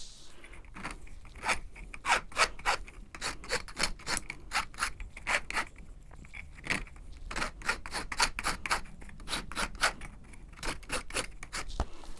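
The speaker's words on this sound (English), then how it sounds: "I'm going to take my file and file off my edges so that the ring is even." A metal hand file rasps along the edges of a signet ring at a workbench, producing dozens of quick, sharp scraping strokes in an uneven steady rhythm, close and moderately quiet with no talking.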